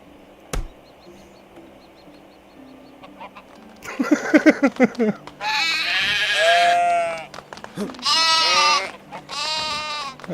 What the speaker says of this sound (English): I really need the sheep to wake up so that I can shear them